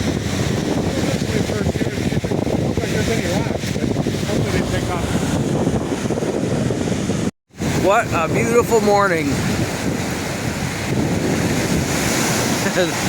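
Big waves crash and roll onto a rocky Lake Superior shore in Michigan's Upper Peninsula, with strong wind buffeting the microphone, and a person speaks briefly over the roar.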